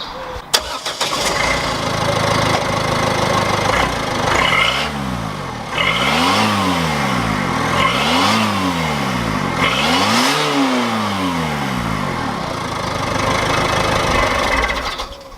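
Ford Fiesta TDCI ST diesel engine with a loose exhaust backbox, idling then revved hard in four rising-and-falling bursts, loud and close with rattly exhaust drone throughout, no talking.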